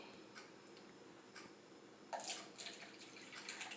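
Distilled water poured into two containers during a pH and buffer experiment, a faint, soft trickle with a few light splashes and clinks that grow slightly louder toward the end, with no one speaking.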